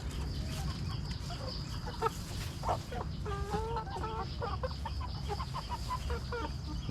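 A flock of chickens on a Lao farm clucks while being fed buffet-style, with short, close clucks and chatter coming in irregular bursts over a steady background hiss.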